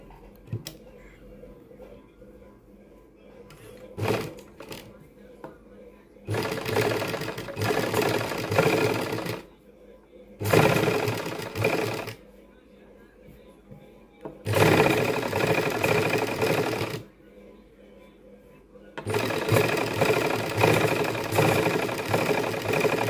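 A sewing machine stitches along an existing line of white stitching on a suit sleeve, running in four sustained bursts separated by quiet pauses, close and fairly loud.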